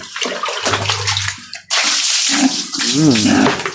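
Water splashes and sloshes during a bath, with a steady wash of noise and loud splashing bursts; voices are heard over it.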